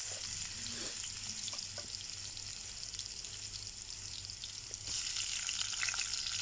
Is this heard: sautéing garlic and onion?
yes